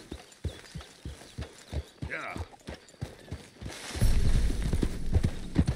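Hooves of a horse in the video game Red Dead Redemption 2 clop steadily at a trot and then break into a louder, faster gallop. A short whinny sounds partway through and a person talks over the hoofbeats.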